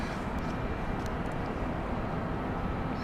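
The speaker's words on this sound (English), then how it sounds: "This is the Cessna Citation 550 XL. 560 XL, I should say." A Cessna Citation 560 XL business jet arriving from Florence to land at London City Airport, a steady, loud broadband roar with deep rumble that holds constant throughout.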